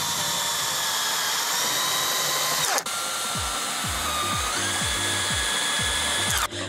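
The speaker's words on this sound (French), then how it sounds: "Ensuite, on visse le tasseau au pilier." A power drill drives a screw through a wooden batten into a post while building a dry toilet, a loud continuous whine holding steady, then a sharp stop and a second run with a faint rhythmic ratcheting underneath.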